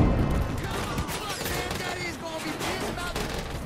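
Mounted gun firing in a video game: dense, rapid bursts of gunfire crackle continuously, loud and close, with a heavy blast at the start and a brief dip midway, while a voice can be heard over the shooting.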